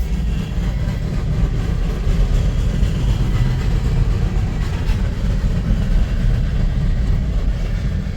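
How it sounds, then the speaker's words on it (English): A long freight train rumbles past close by, a steady heavy low roar of rolling wagons that continues unbroken throughout. "This makes it one of the mega trains that we get out here."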